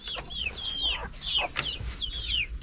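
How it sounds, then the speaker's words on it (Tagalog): Small chickens chirping and clucking as they are let out of their coop, several high calls in quick succession close by over a faint outdoor background, with no talk. "Palabasin natin yung mga maliliit na manok kanipi."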